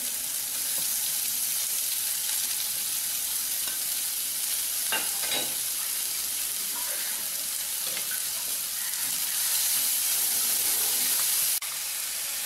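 Continuous sizzling and crackling of onions frying in oil in a hot pan, with occasional stirring scrapes, close by and steady.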